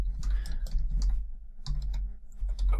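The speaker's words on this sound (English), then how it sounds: "just start typing create database and give it a name" Fingers type on a computer keyboard while a database is being created in Microsoft SQL Server Management Studio, with irregular bursts of close, crisp key clicks separated by short pauses.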